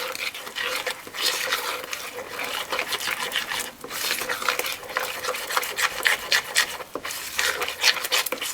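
Spoon stirring banana fritter batter in a bowl, a continuous close scraping and wet swishing with a rough, even rhythm and short pauses, no voices.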